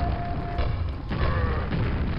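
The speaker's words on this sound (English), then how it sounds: "I'm going to throw some grenades down around there." Grenades explode in Quake, with a couple of dull, muffled booms about a second apart over a low rumbling background.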